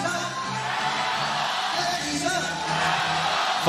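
A loud arena crowd roars and whoops at a women's 3x3 basketball game between Hong Kong and Egypt, a sustained wash of cheering and yelling with a swell toward the end.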